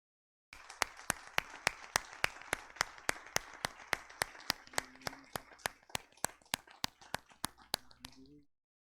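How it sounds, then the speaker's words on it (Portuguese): A church congregation at a Sunday evening service claps in unison to a steady, brisk beat, each sharp clap evenly spaced for several seconds before the applause thins and stops, with faint voices underneath. "Vamos aplaudir ao Senhor"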